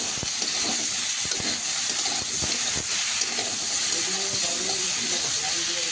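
Spiced eggplant slices, salted and coated with turmeric and chili powder, frying over a low flame in hot oil in a wok alongside slit green chilies, giving a constant close hiss and crackle with occasional spitting pops.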